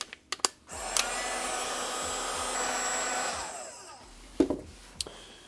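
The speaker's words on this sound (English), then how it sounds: "Try my new heat gun." A new heat gun runs steadily for about three seconds while shrinking heat shrink tubing during winter camping diesel heater wiring, a close continuous airy whoosh framed by a few sharp clicks and handling knocks.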